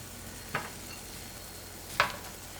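Steady sizzling of a Korean seafood pancake with mussels and squid frying in a pan over medium heat, with two brief louder crackles or scrapes as the batter is pressed.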